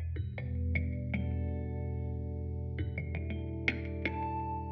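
A Rhodes electric piano picked up by a contact mic inside the instrument, sounding a phrase of roughly ten plucked, bell-like tines that ring and sustain in clusters over a steady low hum, alone and fairly quiet.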